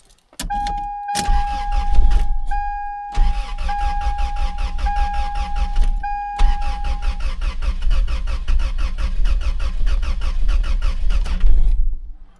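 A 2000 Toyota Tacoma with a misfire cranks with a starter whine and squeal, catches, then runs roughly with an uneven, stumbling idle. It stays loud and close throughout with no talking.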